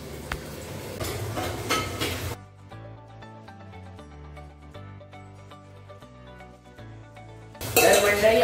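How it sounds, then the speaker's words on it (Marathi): Leftover pots and dishes clatter and clink as they are scrubbed and washed, loud in short bursts at the start and end, with a long stretch of music in between. "ते राहिलेले ते भांडी घासून टाकतो."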